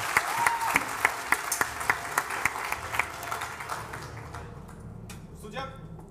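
Spectators clap for gladiators at a live combat event, a brisk close round of applause with crisp individual claps that fades after a few seconds, leaving voices talking.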